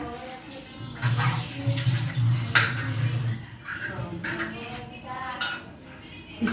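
Ceramic plates and cups clink and knock in a home kitchen as tea is served, with a few sharp clinks over a steady low hum and running water, while someone talks.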